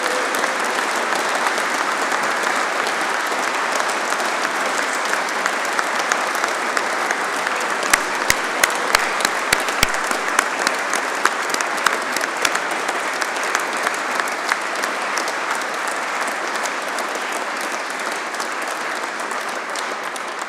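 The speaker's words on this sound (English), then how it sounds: "Big round of applause, please, Jack." A large audience at a Royal Engineers awards ceremony applauds an honoured corporal, long, dense and even clapping that fills the room, with sharper individual claps standing out midway.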